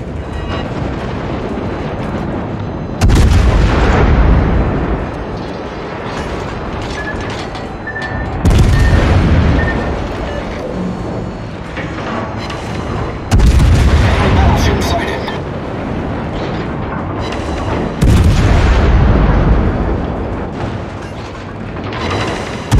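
Warship artillery fire in a naval battle video game, with four heavy, booming salvos spaced several seconds apart over a constant loud rumble of engine and sea, close and powerful.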